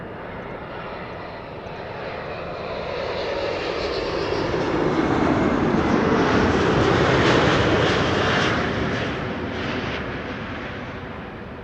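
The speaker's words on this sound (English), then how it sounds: "This is KLM flight 636, arriving from Las Vegas, 9 hours and 33 minutes on the way." A KLM airliner arriving at Amsterdam Schiphol Airport from Las Vegas gives a broad jet-engine roar that swells as it passes close by and then slowly fades, with no voices.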